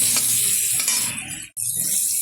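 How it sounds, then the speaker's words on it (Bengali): Long strips of eggplant stirred and lightly fried in a pan give off a close, loud, dense sizzle. The sound cuts off for a moment and then carries on. "বেগুনটা একটু নাড়াচাড়া করে নিলাম, হালকা ভাজা ভাজা টাইপের হয়েছে"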